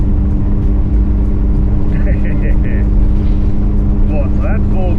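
A Chrysler 245 Hemi (E49 spec) on an Aussiespeed four-barrel manifold with an Edelbrock 650 carburettor idles loudly and steadily, a deep continuous rumble close by, with some brief higher squeaky or whining sounds over it.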